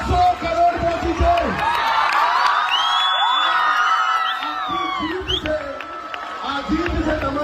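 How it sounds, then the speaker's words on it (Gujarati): An audience at a celebration for the Gujarati film Laalo reaching 100 crore cheers loudly, with whoops, shouts and crowd noise filling the clip and a voice calling over them. "તાળીઓ બંધ ના રહેવી જોઈએ અને તમારો અવાજ પણ જોઈએ"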